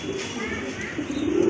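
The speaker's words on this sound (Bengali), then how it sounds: "আরেক জোড়া কবুতর, খুবই চমৎকার কোয়ালিটিফুল" A pair of fancy pigeons kept for sale coo softly in a low, steady murmur close by for a moment.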